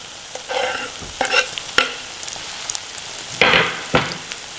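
Capsicum is stir-fried for street-style egg rice, a steady soft sizzle broken by several sharp scraping stirs of a spatula against the pan, near and clear with no talk.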